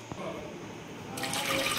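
Lentils are washed: a short burst of water swishing and sloshing in a container, growing louder toward the end as it pours.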